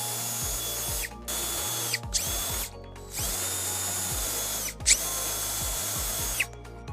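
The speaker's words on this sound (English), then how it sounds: "Use this 3/16 drill bit to drill out the hole." Power drill boring a hole with a 3/16 drill bit during a Toyota Sienna trailer hitch installation, in several loud bursts of steady whirring separated by short pauses and clicks.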